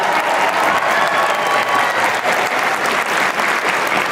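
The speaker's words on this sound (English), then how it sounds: "Please give her a big round of applause." A comic convention panel audience applauds, with dense, steady clapping from a large crowd filling the room, loud and sustained throughout.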